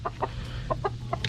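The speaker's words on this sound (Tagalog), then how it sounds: "Ang dami kong lalaking manok." Roosters clucking close by in a backyard flock, a handful of short, evenly spaced clucks over a steady low hum.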